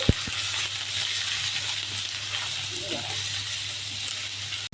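Ginger paste and spices sizzle in hot oil in a pan for a vegetarian pumpkin curry, a steady close frying hiss running throughout with a couple of brief knocks at the start.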